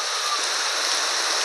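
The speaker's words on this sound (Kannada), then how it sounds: "ಮಳೆ ಬಂತು, ಮಳೆ" Steady rain falls in a continuous, even hiss that holds at the same level throughout, with no talking.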